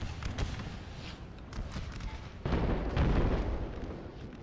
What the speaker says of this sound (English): Artillery is just about to vaporize Walker up here in Stewart.